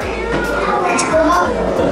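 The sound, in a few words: child imitating a cat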